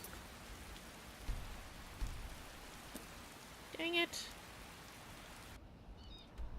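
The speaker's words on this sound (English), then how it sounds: "And it's raining." Steady rain patters in the video game Skyrim, a soft continuous hiss across the whole scene with a few faint drips, while a person mutters briefly in the middle.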